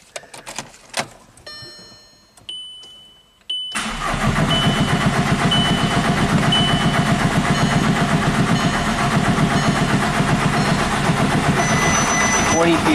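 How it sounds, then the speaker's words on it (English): A VW Jetta TDI diesel engine, which will not start after an engine swap, ticks and clicks at first, then a starter cranks it over in a loud, steady, rhythmic churn that goes on without catching. "And let's crank it over one more time."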